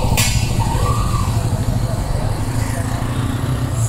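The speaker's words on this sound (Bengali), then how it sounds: "এটা তো হচ্ছে জামি ভাইয়ের বাইক।" Motorcycle engine idling and running close by before a ride from Kaptai, a loud steady buzzing throb throughout the short stretch, with no talk over it.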